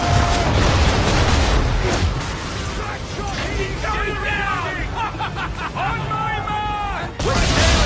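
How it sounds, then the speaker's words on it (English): Swivel guns firing at enemy ships in Assassin's Creed 3 naval combat, loud booming blasts and crashing over continuous battle noise, with shouted crew voices in the mix. "we're just going to fire swivel guns at these guys until we destroy 2 of them"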